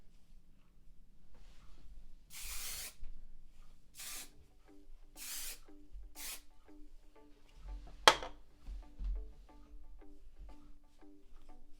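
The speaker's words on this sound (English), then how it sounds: "I will hairspray again." Hairspray spritzed onto loose, fluffy curled hair in several short hissing bursts, fairly close and soft, spaced a second or so apart, with a sharp click partway through and quiet background between sprays.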